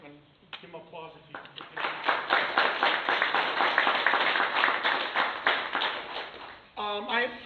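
A crowd at a speech in Belleville breaks into sustained applause for several seconds, dense and fairly loud, with a voice speaking briefly before and after.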